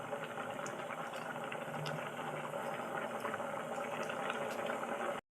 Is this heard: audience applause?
no